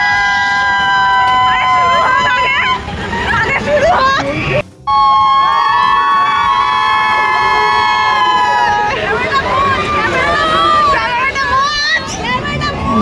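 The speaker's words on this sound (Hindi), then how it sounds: "मैं सबको चिल्लाने के लिए बोल रही थी क्योंकि चिल्लाने से डर थोड़ी कम लगती है" Riders at a Chandi Mela fair ride shout and scream together in a loud, continuous crowd din, with high voices rising and falling over a busy fairground hubbub for several seconds.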